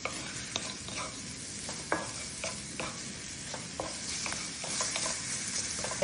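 Garlic sautés in a little olive oil in a pan, a quiet continuous sizzle punctuated by frequent clicks and scrapes of a utensil mixing it, heard close with no voices.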